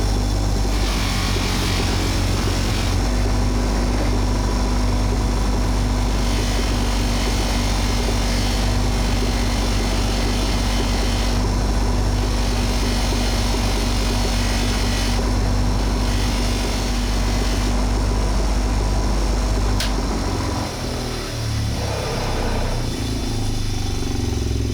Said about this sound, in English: So I'm going to swap over to my stitched polishing wheel